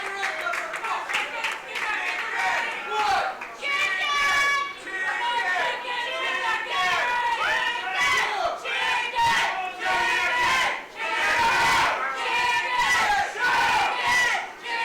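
Wrestling crowd at an indoor show yelling and chanting in loud rhythmic bursts, with cheering and scattered claps, voices of a commentator talking over the din.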